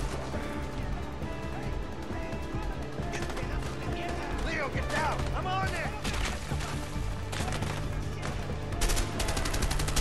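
Rapid burst-fire gunshots from a weapon in the co-op video game A Way Out, dense and continuous under game music and effects, with a voice talking over parts of it.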